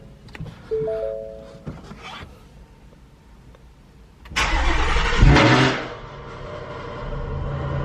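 A Ford Mustang engine turns over and roars to life with a loud burst of exhaust, then settles into a rumbling idle.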